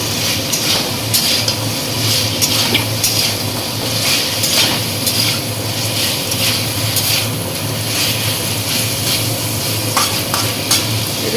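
Pre-fried fish is stirred and tossed in a cooking pan, producing a loud, continuous sizzle with constant scraping and clattering from the stirring, close up and without any talk.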